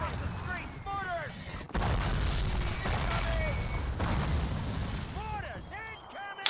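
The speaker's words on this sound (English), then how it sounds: "Mortars incoming!" Mortar shells burst in Call of Duty 1, a video game, heavy booms striking amid rolling battle noise, with shouting voices in the mix as the blasts land close.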